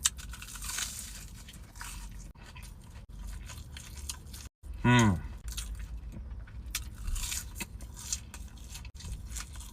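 Crisp crunching bites and chewing of McDonald's chicken nuggets, close up, with a sharp loud crunch near the middle and softer munching before and after.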